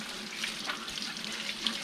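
Tap water runs steadily into a sink while a paint spray gun is rinsed clean, a continuous close hiss and splash with no talk over it.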